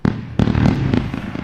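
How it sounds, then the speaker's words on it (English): Fireworks go off at a celebration in a dense, loud burst of crackling pops and booms, several sharp reports overlapping into a sustained rumble. "Celebration with fireworks for the second past account today"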